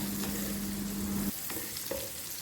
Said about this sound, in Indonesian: masukin si cabai rawit dan tumis sampai dia sedikit layu dulu